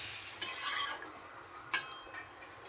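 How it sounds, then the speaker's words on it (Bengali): Bottle gourd being stirred in a pan, with light scraping and clinking of a spatula over a faint, low sizzle, including a brief louder scrape near the end, and no voices. "ভালো করে এবার মিশিয়ে নেব লাউটা।"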